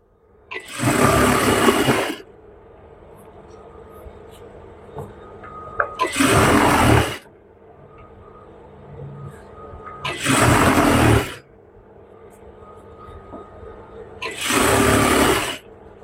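A sewing machine stitching elastic and fabric together on pajamas runs in four loud bursts of roughly one to two seconds each, separated by quiet pauses, close up.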